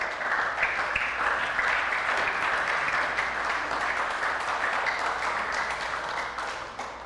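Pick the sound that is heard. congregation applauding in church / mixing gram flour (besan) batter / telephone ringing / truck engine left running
congregation applauding in church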